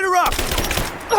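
Quick burst of gunfire from enemy soldiers in Rise of the Tomb Raider, loud and close, clattering shots packed into about a second between voiced callouts.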